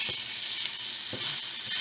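Meat for mini steak and cheese sandwiches sizzles steadily in a pan, a loud continuous hiss with a couple of soft clinks or stirs, no talking.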